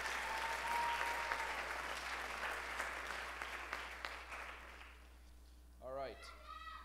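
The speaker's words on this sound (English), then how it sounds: "Give our judges a round of applause for the evening." Applause from the audience at a high school Teen Idol singing competition, a dense wash of clapping that gradually thins before a voice briefly speaks near the end.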